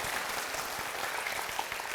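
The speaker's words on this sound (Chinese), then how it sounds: "我們先給屏東鼓掌一下哈" Listeners at a talk in Pingtung clap together in a steady, even wash of applause, continuous and moderately distant, with no voices over it.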